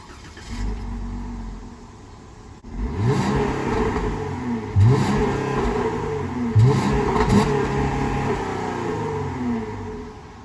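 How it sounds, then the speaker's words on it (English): A 2021 Jeep Wrangler V6 engine idles low, then revs up in several rising, whirring bursts, each climbing and dropping back, close and fairly loud. "it has a V6, and I'll let you guys get a listen to that right now"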